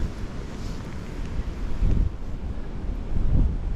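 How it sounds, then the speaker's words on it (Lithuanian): Strong storm wind roars over open water during a hurricane while perch fishing, a steady, loud, low rumble of gusts buffeting the microphone with surges toward the end and no talking. "Momentais atrodo, kad net ir dar labiau vėjas sustiprėja."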